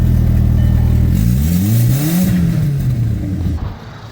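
Engine revving of a 2001 Volkswagen Jetta with an open downpipe exhaust, loud and close, the pitch climbing in a rising sweep then easing back down over a rough, raspy exhaust drone.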